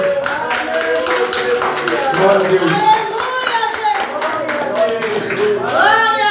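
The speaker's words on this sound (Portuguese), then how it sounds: "E as palmas ao nome do Senhor Jesus." A church congregation claps hands in a steady, full round of applause while a voice and singing-like speech continue over it, close and loud throughout.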